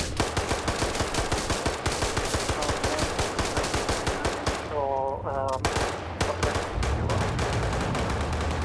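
Gunfire in a tank battle game set in the Middle East, a rapid machine-gun stream of evenly spaced loud shots running for most of the clip, broken by a brief pause with a whining game effect.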